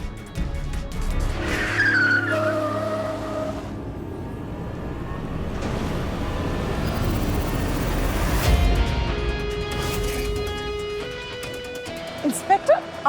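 A car speeds in with loud, drawn-out tire squeals and skidding, a mid-range engine roar rising and fading, with sharp clatters near the end.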